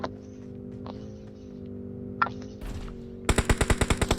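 A P90 fires in BGMI: a rapid burst of about a dozen evenly spaced, loud gunshots near the end, preceded by a steady game hum and a few brief clicks and rustles.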